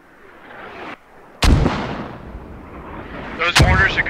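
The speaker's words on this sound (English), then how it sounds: "Those mortars are good. Spread them out and keep them there." Mortar fire in the military shooter game Squad booms out as two heavy blasts with rumbling tails, one near the middle and one near the end, with voices talking over the battlefield.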